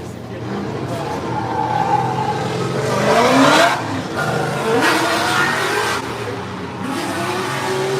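Drift car engine revving hard on a track, loud and close, rising to a peak midway and then easing off, with tire squeal and a commentator's voice running over it.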